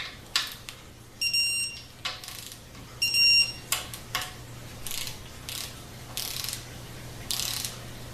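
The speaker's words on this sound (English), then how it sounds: "We get our torque wrench." A torque wrench clicks and ratchets while tightening transmission bolts, with bursts of sharp metallic ratcheting and intermittent clicks over a steady low hum, with two brief tonal beeps early on.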